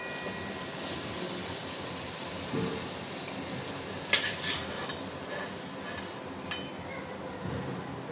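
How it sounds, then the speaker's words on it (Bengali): Luchi deep-frying in hot oil, a steady close sizzle with occasional light clinks of a utensil against the pan, no voices. "এইভাবে সবগুলো আমরা ভেজে নেব, আস্তে আস্তে সব টুকটুক করে ভেজে নেব।"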